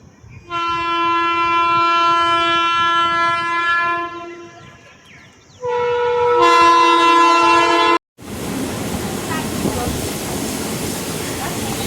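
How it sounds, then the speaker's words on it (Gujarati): A train at Panoli village railway station sounds two long, loud, close horn blasts, then its roaring rumble rushes past. "આ છે ભાઈ આપણા પાનોલી ગામનું પ્યારું રેલવે સ્ટેશન."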